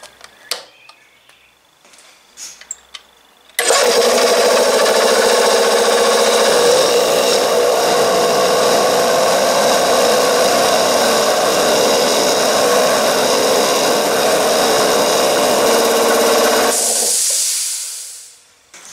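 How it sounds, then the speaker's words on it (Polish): After a few faint sounds, a 3000 W electric air compressor motor starts abruptly and runs at a steady, loud, hissing drone for over ten seconds, then winds down. "Jak widzicie, ten silnik faktycznie ma 3000 W."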